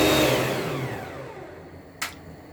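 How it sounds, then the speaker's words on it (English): A 3-in-1 multifunctional blender whirs loudly as it blends fresh tomato, its motor pitch sliding down and fading over a couple of seconds, ending with a brief knock. "this is my blender, just blending fresh tomato"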